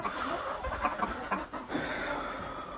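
Chickens cluck softly and intermittently against a steady background hiss, faint and somewhat distant.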